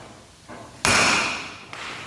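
A center punch struck once into aluminium plate for a hand-built boat gives a single sharp metallic tap with a brief ringing decay, close and alone.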